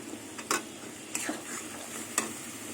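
Ground spices being sautéed and stirred in oil in a pan for a jackfruit and fish-head curry: a few scraping spoon strokes over a faint, steady sizzle, with no talking.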